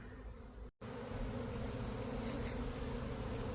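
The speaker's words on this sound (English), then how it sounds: "So right now they are just moving into the hive. They're flying around" A swarm of honey bees flies around while moving into a temporary hive, making a dense, steady buzzing drone close by that fills the whole stretch, with no voices.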